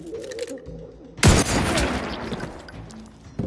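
A single loud sniper rifle shot cracks out in The Outer Worlds 2, followed by a long booming echo that decays over a couple of seconds, with faint game sounds before it and a second sharp hit at the end.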